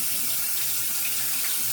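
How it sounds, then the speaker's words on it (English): Tap water runs steadily and fairly close as a bathtub is rinsed, a continuous broadband splashing rush with no pauses and no voices. "Let me rinse off this tub."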